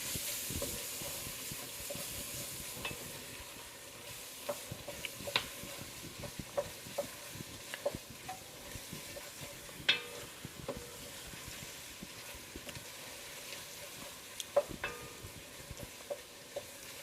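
Minced garlic sizzles softly in a pan for crawfish étouffée, a quiet continuous hiss dotted with scattered ticks and light clicks of stirring.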